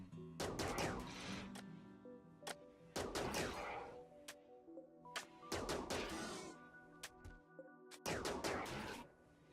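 Gunfire in the RimWorld video game, coming as four separate bursts of rapid shots spaced a couple of seconds apart, fairly faint overall with brief lulls between volleys.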